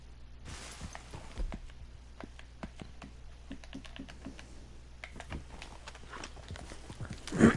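Horse hooves clip-clopping steadily in Red Dead Redemption 2, a regular sequence of sharp, close taps at walking pace with a faint background hum, no talking.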